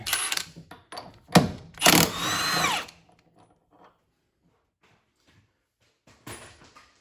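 A power tool removes the upper strut nut on a Mustang in two short, loud, close bursts of buzzing whir, followed by quiet and a brief final spurt.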